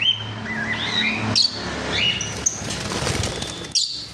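Lutino Fischer's lovebirds at a bird sale chirp in quick, bright, overlapping tweets and short squeaks, close and fairly loud, with fluttering wing sounds and no talk.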